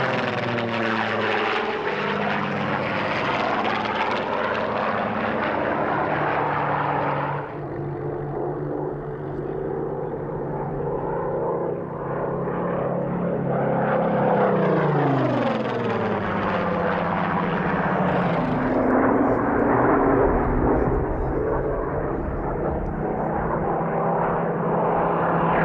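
Supermarine Spitfire Mark 14, a low-back airframe in silver post-war RAF colours, flying at the 1996 Duxford airshow: a loud, steady propeller-engine drone that sweeps and shifts in pitch as the fighter passes, with no voices.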